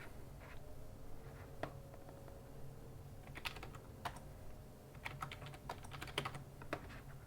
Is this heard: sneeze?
no